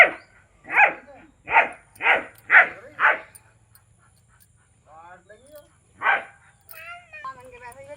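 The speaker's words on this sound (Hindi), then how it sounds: "डॉग पाल रखा था, वो तो इतना भौंके जा रहा, देख के इतना भौंके जा रहा" A pet dog barks six times in a quick, loud run, then gives softer whining yips between barks, close by in a quiet outdoor setting.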